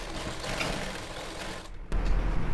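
Sewing machine stitching gathered fabric for a pair of pants during tailoring, a steady close mechanical whir running through the clip and growing louder and heavier near the end, with no talking.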